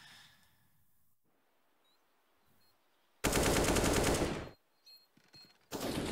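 Automatic gunfire from a CS:GO professional esports match sprays through a door in two loud, dense bursts, a longer one and a shorter one, separated by near-silence with faint background game sounds.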